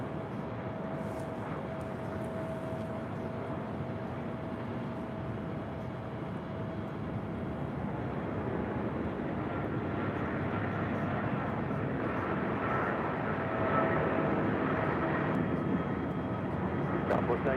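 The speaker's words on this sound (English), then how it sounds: "we got that 777 now rolling down 25 right" A Boeing 777 airliner rolls down runway 25 right at LAX, a distant, steady jet engine roar that swells gradually over the clip, heard alone.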